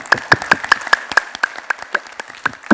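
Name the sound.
audience clapping as a clapping exercise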